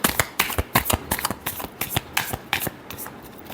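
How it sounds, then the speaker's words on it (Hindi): Tarot cards being shuffled by hand, a rapid series of crisp riffling bursts and slaps repeating irregularly, close and fairly loud with no voice over it. "Last shuffle."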